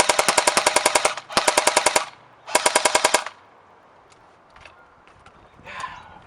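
An ASG Sten MkII airsoft gun empties a mid-cap magazine in three fast full-auto bursts of sharp rattling clicks, loud and close, followed by quieter handling noises.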